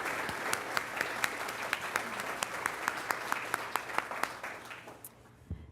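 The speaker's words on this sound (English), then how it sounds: "Let's give Diane a round of applause." A room of people at a school board meeting applauds a retiring staff member with steady, moderately close clapping that continues for several seconds before fading out near the end.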